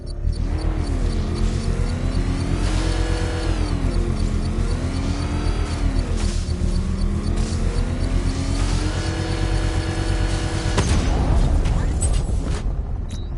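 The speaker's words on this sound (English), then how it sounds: "I can use the power winch to trigger a controlled explosion" A controlled bomb blast in Batman Arkham Knight rumbles as a loud, sustained roar under a voice, with a rising mechanical whine and a sharp burst near the end.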